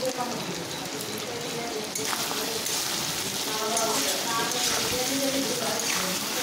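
Food seasoned with salt is stirred while it fries in hot oil, giving a steady, close crackling sizzle with a little stirring noise that carries on evenly throughout.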